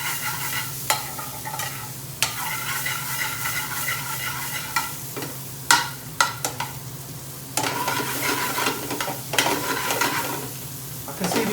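Onions and ginger frying in a pan for an Indian restaurant-style chicken tikka dupiaza: continuous sizzle broken by repeated clattering stirs and scrapes, close and fairly loud, with no talk.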